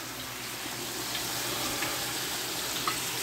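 Butter melts and sizzles in a hot skillet, giving a steady, even hiss that holds at a constant level throughout with no talking.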